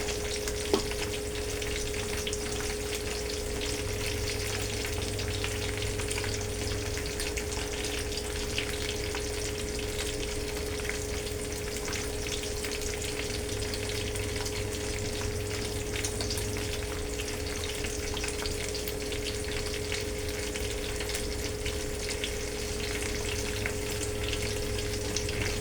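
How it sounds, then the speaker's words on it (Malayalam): Sardine pieces settle into a simmering tamarind fish curry, giving a continuous, even sizzle and bubble that holds steady throughout with no voices. "ഇനി നമ്മൾ മീൻ കഷ്ണം എല്ലാം വെട്ടി കഴുകി വെച്ചിരുന്നേ മത്തി, നമുക്കതെല്ലാം ഇതിനകത്തോട്ടൊന്ന് പെറുക്കിയിടാം"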